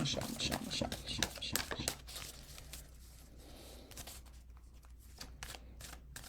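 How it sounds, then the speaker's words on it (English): A deck of reading cards is riffled and shuffled in quick crisp bursts close up, then the handling settles into softer sliding and tapping of cards. "I may have to do another shuffle, which is annoying"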